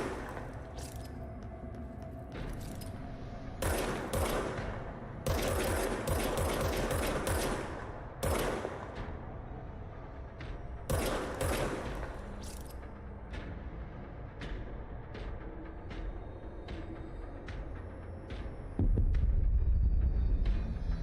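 Rapid bursts of gunfire from a gun in the video game Control, loud repeated volleys and single shots with mechanical clicks between them, ending in a heavy low rumble.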